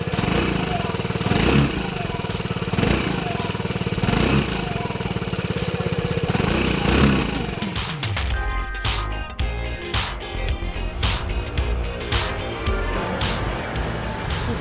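Vespa GTS 125 ABS-ASR scooter being ridden, its 124 cc single-cylinder four-stroke, four-valve, fuel-injected, liquid-cooled engine giving a steady close drone that shifts in character partway through, with scattered clicks and pulses.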